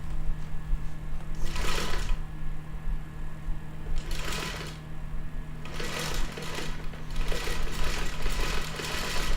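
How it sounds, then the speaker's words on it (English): A domestic sewing machine stitches quilt pieces together in steady bursts of rapid, even whirring, each run lasting a second or two with pauses between, over a constant low hum. "Take and just line up those edges and let your machine do the work."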